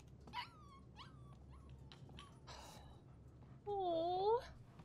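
A puppy in the video game Life is Strange 2 whimpers and yips, with a few short cries early on and then a louder, drawn-out whining whimper near the end, close and clear over quiet game ambience.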